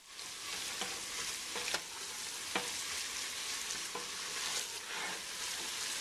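A butter and flour roux cooks in a pan, sizzling softly and steadily while a utensil stirs it, leaving several sharp scrape clicks spaced through the quiet, close sound.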